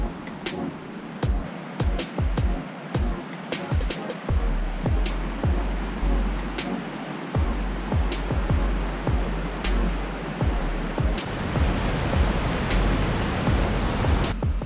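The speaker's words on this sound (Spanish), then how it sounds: "La entrega de toda la belleza natural y el poder de esta cascada es tremenda." The Cascada de los Cántaros waterfall near Bariloche pours as a dense, continuous roar of falling water, loud and steady, with a few sharp clicks over the rushing torrent.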